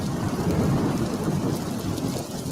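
Rain and thunderstorm sound effect in a radio advertisement: dense, steady rainfall with a deep rumbling thunder bed throughout, loud and continuous with no speech.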